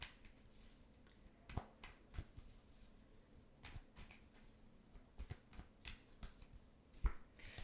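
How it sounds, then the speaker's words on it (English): Tarot cards being shuffled by hand, soft riffling and scattered sharp taps and slaps of cards, quiet and close, at an irregular pace. "I'm trying to like let you guys see me shuffle the cards."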